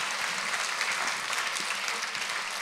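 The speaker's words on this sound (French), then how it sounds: "On vous applaudit." Audience applause after a panel talk at a health forum, a dense even clapping that stays steady and fairly soft for a few seconds with no voices over it.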